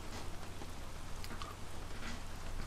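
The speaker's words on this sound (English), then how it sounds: "it is raining. Absolutely pouring down" Heavy pouring rain falls in a racing video game on the wet Russia track, a dense, constant hiss at low level with no talk over it.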